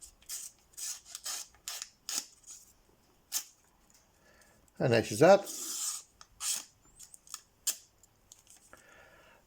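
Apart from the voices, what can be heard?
knife blade cutting flimsy receipt paper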